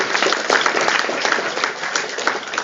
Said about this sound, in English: A round of applause for all the dignitaries.